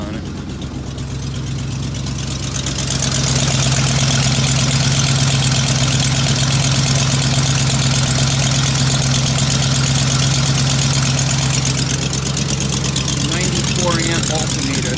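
A 1988 Chevy R30 truck with factory exhaust, original mufflers and a suspected broken manifold idles after a cold start, a steady loud low rumble that swells slightly after the first two seconds and holds on.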